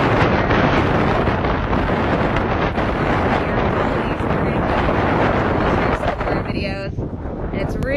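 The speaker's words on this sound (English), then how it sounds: "it's really windy" Loud, constant wind on a beach buffets the microphone with a roaring rumble throughout, briefly joined by a faint higher tone near the end.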